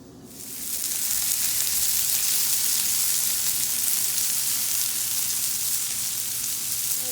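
Peppers and onions fry in a pan with a steady, loud sizzle that swells in within the first second and holds evenly throughout, with no talking.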